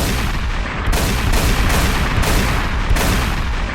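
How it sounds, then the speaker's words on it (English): Dense, continuous booming blasts and gunfire-like bursts from Minecraft explosions, loud and overlapping, with several sharp explosive hits standing out from the roar. "There's lots of explosions in this map. And we'll add a few just for your viewing pleasure."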